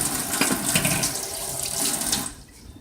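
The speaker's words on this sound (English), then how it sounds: "Wash my hands a little bit." Tap water runs steadily into a sink as hands are washed after cracking an egg over a porcelain bowl in a home kitchen, a continuous close splashing that cuts off near the end.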